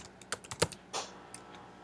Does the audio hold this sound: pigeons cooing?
no